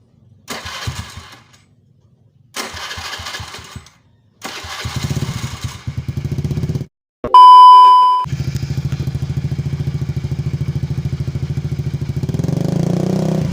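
A motorcycle with a modified exhaust cranks in several short bursts, a beep sounds, then it catches and idles with a loud, steady, throaty rumble that rises at the end.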